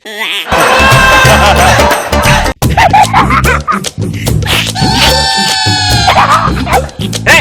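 Loud, close voices imitate barking dogs in a chaotic burst of yips and woofs, with tonal musical sounds mixed in, during a comedy stage performance.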